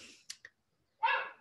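A single short dog bark comes near the end, preceded by a couple of faint clicks, in an otherwise quiet indoor room.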